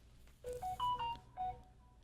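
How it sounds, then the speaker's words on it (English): A phone notification chime plays as a short melodic run of clear electronic tones, rising then stepping down, with a brief pause before a final note, fairly close and alone. "Be quiet, phone. Nobody's talking to you."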